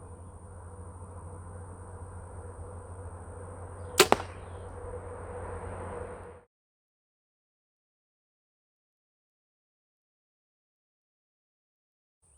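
An arrow is shot from a bow at an archery target, giving a single sharp, loud release snap over a low steady hum. The hum cuts off shortly after, leaving silence.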